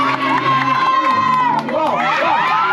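At a birthday party, a crowd cheers and shouts with excited children's voices, loud and continuous throughout, with a clear surge partway through; separate clapping is not distinct.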